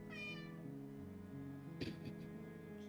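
A pet cat named Spider lets out a clear, drawn-out meow close to the microphone, followed by soft rustling and brushing as the animal rubs near it.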